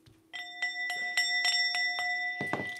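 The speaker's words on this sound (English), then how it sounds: "I'm going to be hitting the bell a lot louder than this" A bell struck repeatedly, about eight ringing strikes at an even pace, each a clear metallic tone with sustained overtones, ending in a louder, busier flurry of hits; close and loud with no talking.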